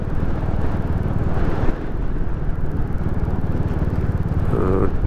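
A Royal Enfield Classic 350 motorcycle rides steadily along the A57 Snake Pass, its engine a continuous close drone with thumping pulses beneath heavy wind rush, loud and without talk.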